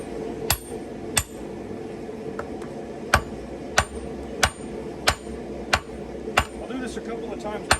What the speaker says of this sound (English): So now we need to start forging down the sheets and getting the eye shaped out.